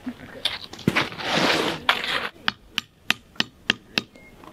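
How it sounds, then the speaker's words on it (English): A burst of drilling into a maple tree gives way to a series of sharp, evenly spaced taps setting a sap spout, about seven distinct knocks ringing out close by with short pauses between them. "the drill, the pause, the tap."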